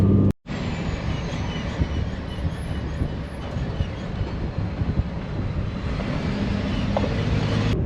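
A DIY Earthroamer camper truck drives along a road out of Almont, Colorado, producing a steady, loud rumble of engine and road noise that holds for the whole stretch after a brief cut at the start.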